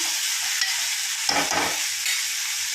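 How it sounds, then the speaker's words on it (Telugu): Chopped tomatoes fry in a pan for a cucumber tomato curry, giving a steady sizzling hiss, with a short burst of stirring scrapes in the middle. "టమాటా వేసుకొని ఒకసారి ఇలా కలుపుకొని"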